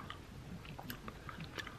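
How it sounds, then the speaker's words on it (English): Big League Chew bubble gum being chewed up close, a few soft wet mouth clicks and smacks spread over a short stretch with no talking. "So I'm gonna give this a couple chews"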